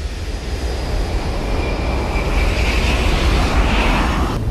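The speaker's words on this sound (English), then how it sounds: "We can take you from a pin drop to the thunder of a jet engine." A jet engine roars through an IMAX cinema sound system in a demo sequence, a loud, dense, continuous broadband rumble that holds steady and swells slightly throughout with no voices.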